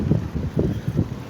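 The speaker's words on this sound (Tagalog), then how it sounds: "Tapos mahangin din." Wind buffeting a microphone on a bicycle ride on a sunny, windy day, heard as close, low rumbling gusts that pulse irregularly through the short stretch, with no talking.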